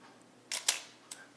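At 1/8 second, an Olympus OM-2n film SLR shutter opens with two close, crisp clacks in quick succession, then a fainter closing click about half a second later, heard alone in a quiet room.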